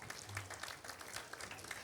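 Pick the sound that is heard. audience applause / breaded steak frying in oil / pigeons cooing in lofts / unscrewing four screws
audience applause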